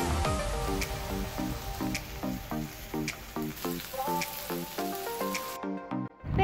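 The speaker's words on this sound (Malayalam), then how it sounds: "അതിലേക്ക് നമ്മൾ നേരത്തെ റെഡിയാക്കി വെച്ച ഇഞ്ചി, വെളുത്തുള്ളി, ഉള്ളിയും ഒക്കെ ഒന്ന് ആഡ് ചെയ്ത് വഴറ്റി എടുക്കുന്നുണ്ട്" Ginger, garlic and onion fry in coconut oil in a pan with a steady close-up sizzle for several seconds, alongside a rhythmic, repeating tonal pattern, before the sound drops away near the end.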